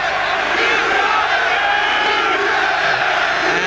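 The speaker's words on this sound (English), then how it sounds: "the crowd there giving it the Eubank cheer" A boxing arena crowd roaring and chanting in support of Chris Eubank during his fight against Thurlane Malinga, a loud continuous wall of cheering voices with rising shouts.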